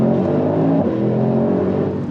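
A Mercedes-AMG GT63 engine drones steadily at close range, its pitch dipping slightly partway through, with no voices.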